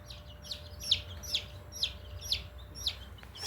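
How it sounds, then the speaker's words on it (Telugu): Small chicks cheep in a steady series of about seven high, thin peeps roughly half a second apart, close by, over a low background hum. "కోడిపిల్ల చూడండి ఎట్లా వస్తుంది."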